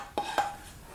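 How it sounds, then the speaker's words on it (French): A knife slices cherry tomatoes in half, giving two quick, sharp taps against a hard surface a fraction of a second apart, close and fairly quiet in an otherwise still kitchen. "j'ai envie de couper les tomates cerises en deux"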